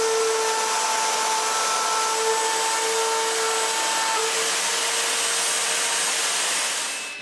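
A power tool, likely a router, cuts the remaining grooves into a glued-up wood panel for a bathroom vanity, a steady loud whining drone with faint tonal lines running continuously and fading slightly at the end.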